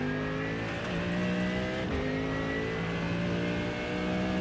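A Mercedes race car engine in iRacing, a simulated endurance practice session at the Nürburgring, holds a loud, steady drone with a slight pitch dip and recovery partway through, sustained without pause and with no talk.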